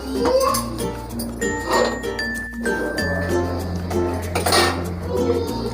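Metal pot of zarda sweet rice clanks as a lid is set on it, with bright clinks and scraping of cookware rattling steadily close by, without talk.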